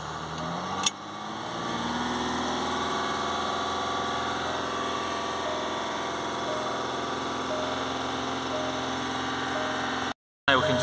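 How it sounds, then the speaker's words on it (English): A Jaguar F-Pace 3.0 TDV6 diesel engine drone held at constant elevated revs, continuous and even with a low mechanical hum, ending in a brief cut to silence. "I'm just going to use my laser pedal depressor here just to hold the revs for me"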